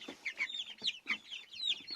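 Foxy Chick chickens cluck in quick, repeated bursts close by, a steady rhythm of short clucks with no voices.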